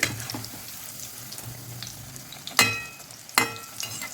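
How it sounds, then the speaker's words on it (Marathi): Onion potato bhaji frying a second time in hot oil, a soft bubbling hiss under two sharp clattering knocks from a utensil, heard up close with no voices. "मी बाकीची भजी पण परत एकदा तळून घेत आहे"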